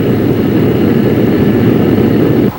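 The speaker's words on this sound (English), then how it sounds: "Like all jet planes, the Banshee requires no extensive warm-up period before takeoff" A Banshee jet plane's engine roars loudly and steadily with a dense, broadband rush that holds constant before dropping off abruptly at the very end.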